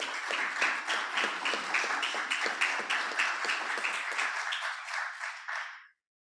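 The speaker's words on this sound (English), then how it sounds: "give a round of applause for the distinguished Dr." An audience breaks into steady applause welcoming a distinguished doctor to the stage at a health summit, a dense close wash of clapping that holds for several seconds, then tapers and stops abruptly.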